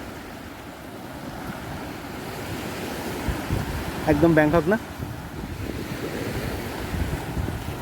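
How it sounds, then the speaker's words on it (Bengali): Surf rolls steadily onto the clean sands of Wandoor Beach in the Andaman Islands, with wind buffeting the microphone throughout and a brief voice speaking over the waves midway. "অসাধারণ একটা পরিষ্কার পরিচ্ছন্ন সি বিচ এই ওয়ান্ডুর বিচ"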